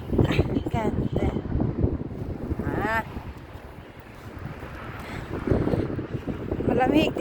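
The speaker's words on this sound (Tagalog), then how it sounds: "Lakas ng hangin." Strong cold wind by a lake in Cyprus roars steadily as a broad, blustery rush, with people talking over it throughout.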